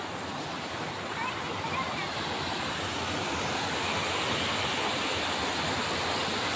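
Water flows in a steady broadband rush, like a stream or small waterfall in a forested village area near Talasari, continuous and moderately distant throughout.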